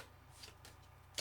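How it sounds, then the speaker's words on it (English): Soft, continuous riffling of tarot cards being shuffled close by, a steady papery flutter with a sharper snap at the very end, quiet and without talk. "I know when the shuffle's right."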